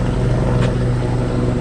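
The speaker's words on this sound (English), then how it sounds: "I hear a helicopter." Helicopter over an allotment garden in Tokyo gives a steady, loud, low engine drone with a dense rotor hum that stays level throughout, with no voices.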